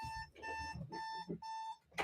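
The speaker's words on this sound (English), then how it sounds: "I set like 10 billion alarms because I'm very bad at waking up" An alarm clock rings in three repeated electronic beeping bursts, each a steady high tone about half a second long with short gaps between, loud and close.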